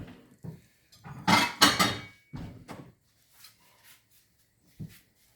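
Plates and dishes clatter and knock in a home kitchen while crêpes are being made, several sharp close clinks and scrapes in bursts with quiet gaps between.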